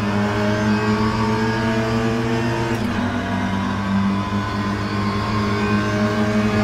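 A Mini Cooper S MK1 engine drones steadily in rFactor 2, with a quick heel-toe throttle blip as it downshifts partway through, loud and continuous with no voices.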